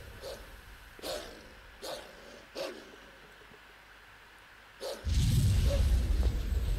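A dog in the video game Tales of Zestiria gives four short, spaced barks, then a louder rushing, whooshing swell of game sound takes over near the end; no speech is present.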